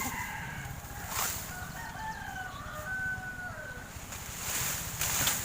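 Chickens and a rooster on a farm, with a rooster crowing in drawn-out calls across the middle of the clip, accompanied by scattered clucks and short bursts of other fowl sounds at a moderate distance.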